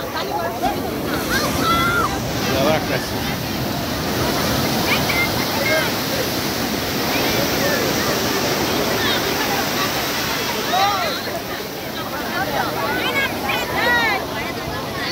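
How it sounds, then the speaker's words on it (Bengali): Rough sea surf breaking on the beach at Puri, a loud, continuous roar of churning waves close by with crowd voices and chatter mixed through it. "সমুদ্রের উত্তাল ঢেউ"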